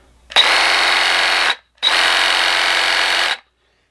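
Milwaukee M12 Fuel Hackzall compact reciprocating saw running free at close range in two loud, steady bursts of about a second and a half each, separated by a short pause, with no talk.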